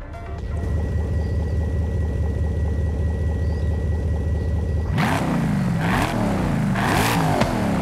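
A modified car exhaust in Forza Horizon 5 burbles at idle with a low steady rumble, then several throttle blips swell and fall in quick succession, loud and close with no talk.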